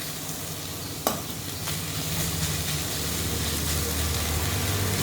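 Drumstick leaves stir-fry in an open, uncovered pan, a steady close sizzle and hiss with a sharp clack of a utensil early on and stirring scrapes continuing.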